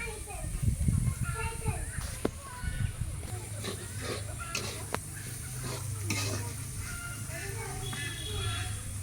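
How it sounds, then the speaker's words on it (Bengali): Thick-cut potatoes (aloo bhaji) frying and being stirred in a pan in a home kitchen, a steady sizzle with spoon scrapes throughout, while voices and children can be heard in the background. "আজকে আলু ভাজি করতেছি।"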